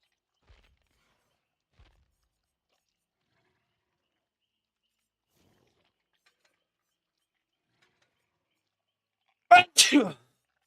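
A single sneeze bursts out near the end after long near-silence, close and fairly loud, a sharp two-part burst; only faint clicks come before it.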